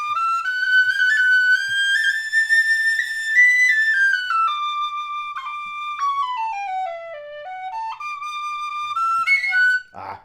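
A Thornton V6 high D tin whistle plays a bright, clear melody alone and up close, with notes that step and slide up and down over about ten seconds, ending with a short breathy blip.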